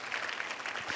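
A leadership retreat audience applauds a long-serving colleague during a general session, the clapping fairly quiet and even across the brief moment, a dense patter of many hands with no talking.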